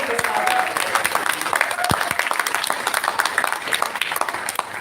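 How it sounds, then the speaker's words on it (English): An event audience breaks into applause for a host and organizer, a fairly close wash of clapping with a few sharp individual claps and some voices mixed in. "We have to give her a huge round of applause"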